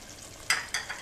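Kebab mixture with garam masala and roasted cumin powder stirred in a pan, three quick scraping strokes with a soft sizzle, close and fairly quiet.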